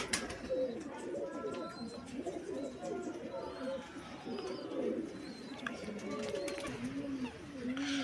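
A topi pigeon, a breed of racing pigeon, coos repeatedly at close range in low rolling phrases, with other birds calling and chirping faintly around it throughout.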